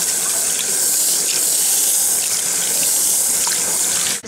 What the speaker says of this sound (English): So we rinse once more.